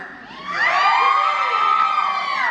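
Concert crowd at a show at T-Day Music shouting together: a loud, sustained unison scream of many voices rising in pitch and holding steady to the end.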